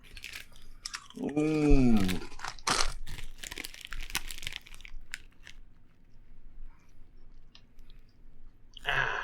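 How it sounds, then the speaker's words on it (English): Doritos tortilla chips crunched and chewed close to the microphone, a burst of crisp bites and wet chewing early on, then intermittent crunches and clicks with a voice briefly heard. "easing into this episode with the sound of us crunching"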